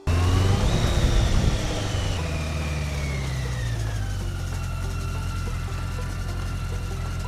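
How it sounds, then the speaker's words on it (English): The engine of a BMW K100 motorcycle, run again after years standing, revs up close and then settles to a steady drone as the bike pulls away on a short test ride, its pitch slowly falling. "I'll try to take it for a spin around just over here and see how it goes."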